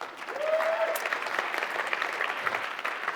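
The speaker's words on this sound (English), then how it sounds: "So, round of applause for each and every one of you in this room here." An audience in a conference room gives a steady round of applause at moderate distance, with soft, even clapping throughout.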